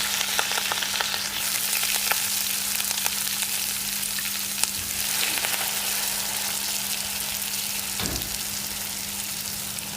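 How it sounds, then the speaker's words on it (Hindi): Rice pours into a hot pot of oil for mutanjan, a sweet Pakistani wedding-style rice, and sets off a steady, close, dense sizzle that holds for the full ten seconds with light stirring scrapes and no talking. "अब इसके अंदर आगे चावल डालते हैं हम।"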